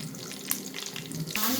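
Whole spices, star anise, cardamom and cloves, sizzle in hot oil for mutton biryani, with a brief crackle and a short stir, and the frying grows louder at the end.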